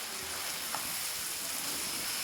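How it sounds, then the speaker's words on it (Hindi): Mixed vegetables sizzle gently in a pan as they are fried for a spicy vegetable pulao, a steady, fairly quiet hiss that runs without a break. "इन सभी चीज़ों को मैं थोड़ा सा भून लूँ"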